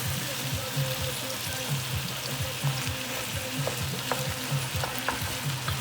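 Ground turkey browning in a pan for chili, a dense close sizzle with repeated rhythmic scraping as the meat is broken up and stirred.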